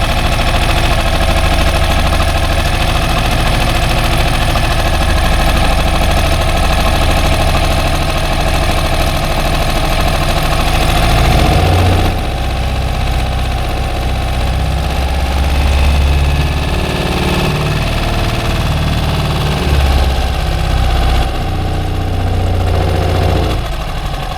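A 4hp Mercury outboard boat motor idling slightly fast while warming up, a loud steady close-up engine drone with rhythmic knocking vibration throughout, no talk.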